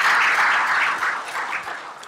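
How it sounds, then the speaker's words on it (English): Audience at a North San Antonio Chamber State of Energy event applauds in a dense, steady burst of clapping that slowly tapers off, with no talking over it. "How about a round of applause for them?"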